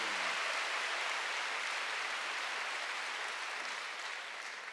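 A congregation applauds during a Sunday church service, heard as a broad, even wash of many hands at low level that holds steady and then tapers slightly at the end.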